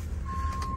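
Steady high reversing beeps from a nearly new small delivery truck backing up, sounding close over a low engine rumble.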